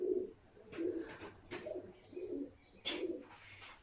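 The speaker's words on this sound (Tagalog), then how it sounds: "Pero kasi doon ibon." Soft, low cooing calls from doves or pigeons repeat in a steady rhythm, with a few brighter chirps from other birds nearby.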